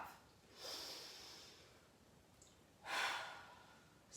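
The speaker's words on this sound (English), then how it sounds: "That breathing is so good for us too." Forceful exhaled breaths during an arm lifting exercise, two strong breathy puffs heard up close with a quieter breath between, no speech.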